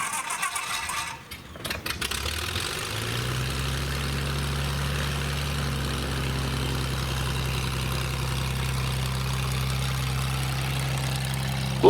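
Corvair engine on a Zenith CH 601 light plane cranking and catching after a brief starter whir, then settling into a loud, steady, low droning idle that runs on alone.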